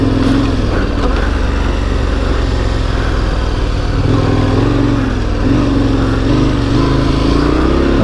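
A KTM 1090 Adventure R motorcycle rides over soft sand in low gear, its engine droning steadily and loud close by with small rises and dips in revs as it bumps along, no talk over it.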